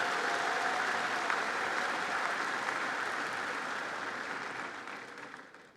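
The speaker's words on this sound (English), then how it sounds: "How about another round of applause for our wonderful choir" An audience at a high school graduation ceremony applauds the choir, dense steady clapping filling the hall that gradually fades toward the end.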